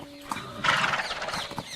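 A horse gives a loud whinny amid clip-clopping hooves, the neigh rising and falling in the middle with a few hoof knocks around it, fairly close.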